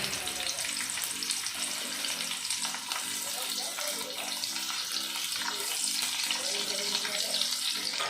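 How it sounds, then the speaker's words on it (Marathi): Tomatoes and kalo roasting in oil in a pan, with a steady, broad frying hiss and sizzle running throughout, fairly loud and close, with no voices. "टोमॅटो आणि कालो भाजून घेऊया"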